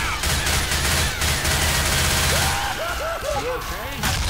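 Gunfire in the Left 4 Dead 2 video game: a couple of sharp shots over a constant noisy game backdrop, with a wavering, moaning vocal sound in the latter half.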